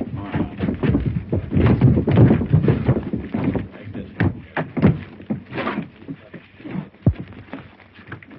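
Several horses clip-clop at a trot as a group of riders sets off on a western range, with loud, busy hoofbeats and scuffling up close and a few sharp knocks toward the end.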